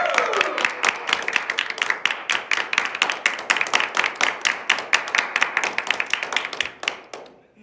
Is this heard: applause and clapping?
yes